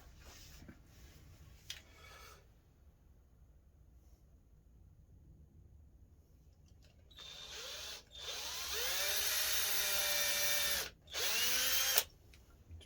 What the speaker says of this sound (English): let's drill a couple of holes in